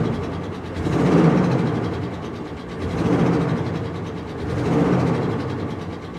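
A car engine with a single dead misfire is revved three times in slow swells, each rise and fall lasting about two seconds, loud and close with a rough, uneven rumble; no talking.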